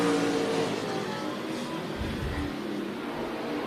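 NASCAR Weekly Series stock cars race around Tucson Speedway. A steady, loud engine roar fills the air, and one car surges past midway with a brief rising rev.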